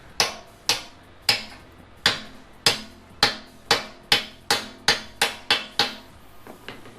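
Solid subframe bushings being hammered into an S550 subframe as a friction fit, about a dozen sharp, evenly spaced metallic blows ringing out close and loud, with a few lighter taps at the end and no talking.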